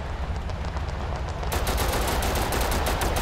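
Rapid automatic gunfire in a modern military video game, heard as a steady stream of dense, close shots that thicken and grow louder partway through over a constant rumbling background.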